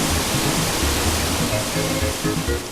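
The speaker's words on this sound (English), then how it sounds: "And of course we get washed away out onto a waterfall." Rushing waterfall in Super Mario RPG at the start of the Midas River section, a steady loud wash of falling water filling the whole clip with no voices.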